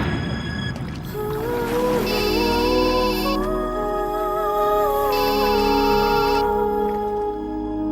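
A mobile phone plays a melodic ringtone for an incoming call, a loud tonal tune with repeating bright chime bursts, heard alone in an indoor comedy-film scene.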